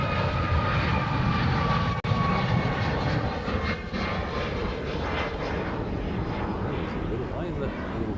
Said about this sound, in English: this is the 3rd Hawaiian Dreamliner that was delivered